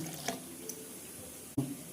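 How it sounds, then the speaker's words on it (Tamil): Water runs and splashes briefly into a pot, with a short pour near the end over a quiet background. "அதில் இன்னொரு டம்ளர் தண்ணி ஊற்றுறேன்"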